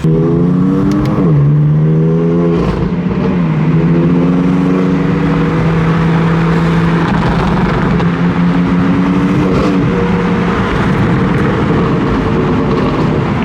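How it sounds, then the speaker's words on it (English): A BMW M4 GTS and a G80 M3 rev their exhausts close by, loud, sustained engine tones rising and falling through repeated blips and holds, with no talking over them. "we're gonna be comparing the exhaust on the G80 and the M4"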